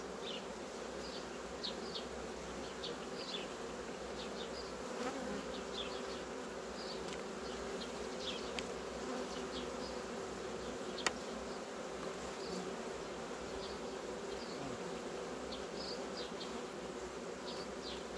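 Honey bees buzzing over the frames of a strong hive colony, a dense steady hum with wingbeat flickers, fairly quiet and continuous, no voices.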